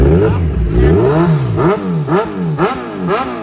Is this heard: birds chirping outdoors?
no